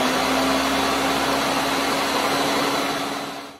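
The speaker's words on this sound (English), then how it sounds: "Put the lid on it. And puree. It's going to get loud." A blender pureeing cauliflower chicken pot pie soup roars loud and steady at close range for a few seconds, then quickly winds down at the end.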